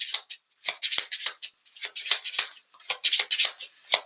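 A deck of cards for the Hero Realms deck-building card game is shuffled by hand in quick, papery riffling bursts, repeated in bunches with brief pauses between them. The sound is close and clear, with no talking over it.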